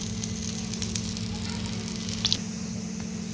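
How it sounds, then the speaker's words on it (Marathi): Fenugreek thalipeeth roasts on a pan over medium heat as oil is dripped into its holes, giving a continuous close sizzle and spatter with a brief sharper hiss burst near the end and no voices. "आता पुन्हा आपण या छिद्रांमध्ये थोडं थोडं तेल टाकून घेऊ यामुळे आपली दुसरी बाजू व्यवस्थित क्रिस्पी होऊन जाईल"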